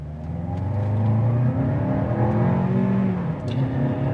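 A 2021 Lexus NX 300 with a turbocharged four-cylinder accelerating: a steady, building engine drone heard from inside the cabin, with rising tones and no talk.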